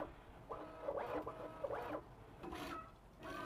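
A Bambu Lab A1 3D printer runs its speed calibration, giving faint, short whirring motor sweeps that rise and fall in quick repeated passes against a quiet background.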